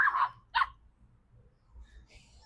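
Dogs barking at a UK allotment: two short, sharp barks close together at the start, followed by quiet outdoor background with faint distant high sounds.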